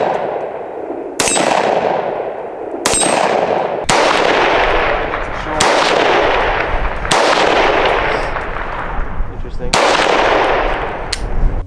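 Gunshots from a CMMG Dissent MK57 firing 5.7x28 rounds outdoors, seven loud, sharp cracks spaced one to two seconds apart, each trailing into a long ringing echo.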